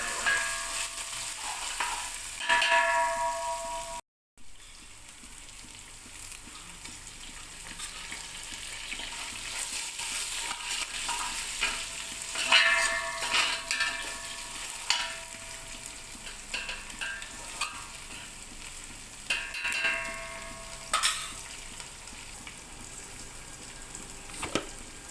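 Ginger garlic paste fries in a pan with a continuous close sizzle, broken by a brief gap and by occasional spoon-stirring scrapes and crackling spurts, with no talking.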